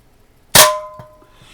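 A Daisy Red Ryder BB pistol fires one sharp crack that rings off a struck can, with a metallic ping lingering briefly and a faint second tap shortly after, close by and alone.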